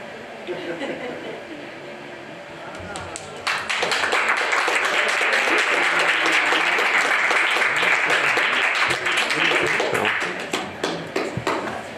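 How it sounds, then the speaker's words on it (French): An audience breaks into applause for a photographer at a wet collodion photography talk, quiet murmuring at first, then a sudden swell of loud, sustained clapping that tapers near the end. "on peut peut-être faire la surprise de l'applaudir"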